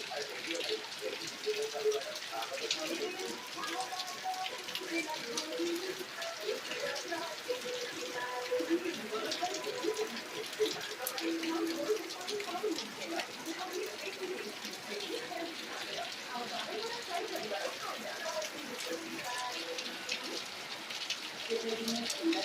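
Heavy rain falls near a forest during a wild mushroom outing, a steady dense patter and hiss continuing evenly at moderate volume throughout, with faint speech mixed in.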